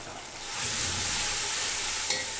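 A paste of tomato and onion hits hot oil with golden fried onions for a dhaba-style chana daal: a loud, close, steady sizzle that swells up quickly and holds, with one small tap near the end.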